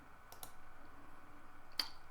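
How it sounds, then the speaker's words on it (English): Computer mouse clicking faintly in a quiet room, a quick double click early on and a single sharper click near the end, over low background hiss. "I'll click the Next button."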